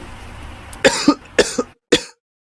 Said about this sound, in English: The body tends to expel the mucus by coughing repeatedly, leading to a condition known as smoker's cough.